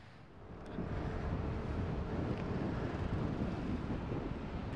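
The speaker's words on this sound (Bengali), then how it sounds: "এই গাড়ি চালালে যে হাওয়াটা লাগছে, এটাতে ঠান্ডা লাগছে" Wind buffets the microphone during a motorcycle ride from Kolkata to Jamshedpur, a steady low roaring rush that swells after the first second and holds, with no talking.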